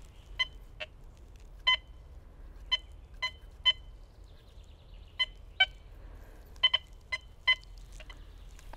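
Quest X10 IDmaxX metal detector giving a dubious, grunting signal: about a dozen short, sharp beeps at irregular intervals, some in quick pairs, over a low faint background hum.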